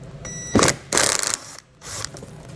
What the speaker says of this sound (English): we're gonna have four T15 Torx bit screws we need to pull out.